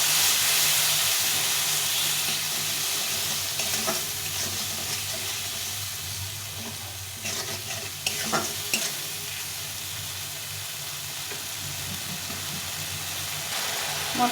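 Fish curry masala frying and being stirred in a pan with chilli powder and a splash of water, a steady close sizzle and hiss with scraping spoon strokes throughout.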